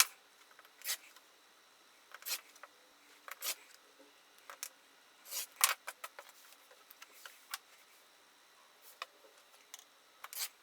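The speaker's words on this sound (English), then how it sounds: "I'm just going to cut some 3-inch strips" Fabric being cut into 3-inch strips against a long ruler, heard as scattered short, crisp cutting snips and slides spaced irregularly, close up and faint, in an otherwise quiet room with no talking.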